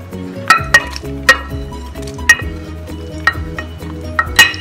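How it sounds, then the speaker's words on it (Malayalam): Onion, green chilli and ginger go into an earthenware clay pot with a series of bright clinks and knocks, about ten evenly spaced hits, close and crisp with no talking. "നമ്മളിതിലേക്ക് സവാള, പച്ചമുളക്, ഇഞ്ചി ഇത് നമ്മളൊരു മൺചട്ടിയിലാണ് വെക്കാൻ പോണേ"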